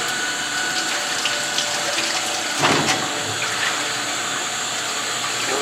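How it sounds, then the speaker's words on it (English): Cool tap water runs steadily into a sink as squid (calamari) is rinsed, a continuous broadband splashing hiss with a brief louder surge midway and no talking. "Cool water, just make sure that you're rinsing calamari."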